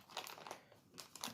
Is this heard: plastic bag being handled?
yes